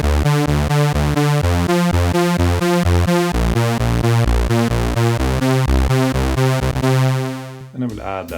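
A bright, detuned super saw on a Korg Volca Keys in unison mode plays a quick, steady riff of octave notes for a 90s happy hardcore style. It is loud and continuous, then cuts off near the end.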